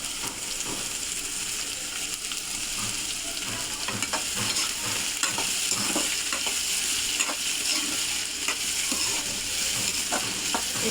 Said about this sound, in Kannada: ಒಂದು ನಿಮಿಷ ಫ್ರೈ ಮಾಡ್ಕೊಳ್ಳೋಣ.